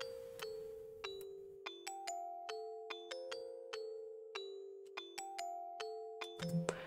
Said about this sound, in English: These are the original melody of the bell